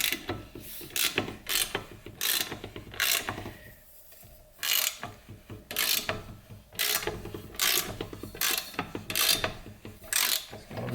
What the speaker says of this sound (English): I got a ratchet now with a quarter inch square opening.